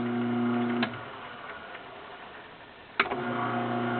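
A juicer runs in reverse to clear clogged Swiss chard, a steady mechanical hum that cuts out briefly with a click, then restarts with another sharp click.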